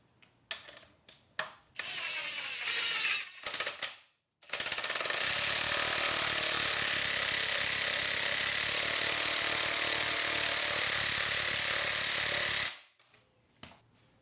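A Black Widow scissor lift for motorcycles being raised gives a loud, steady mechanical ratcheting drone for about eight seconds, after a few shorter bursts of operation.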